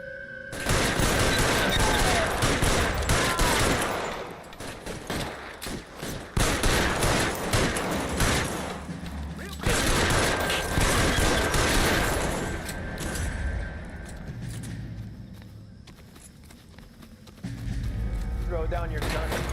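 Gunfire during a shootout in the video game L.A. Noire, with loud rapid volleys of shots in repeated bursts and brief lulls, and someone talking over the action.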